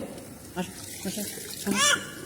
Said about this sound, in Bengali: তুমি তো হাত ধুয়ে ফেলছো